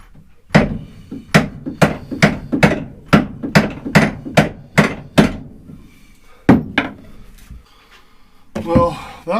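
A hammer striking a stuck seacock on a sailboat, about a dozen loud, evenly spaced metallic blows, then a pause, two more hits and a scraping clatter.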